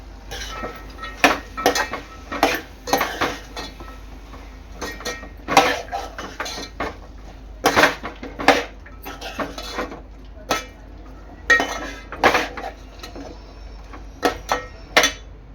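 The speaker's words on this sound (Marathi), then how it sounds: "भाज्या चांगल्या मिक्स करून घ्यायच्या आहेत" Vegetables being mixed in a metal pot for Bhogi bhaji, with repeated sharp scraping clinks of a spoon against the pot in an irregular rhythm, close and fairly loud, with quiet pauses in between.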